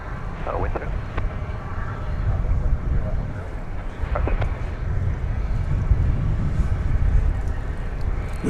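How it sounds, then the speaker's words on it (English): Gusty wind buffets an outdoor microphone on a cloudy, chilly morning at DFW Airport in North Texas, a steady low rumble with rising and falling gusts throughout, with faint distant activity in the background. "Wind seems to be picking up"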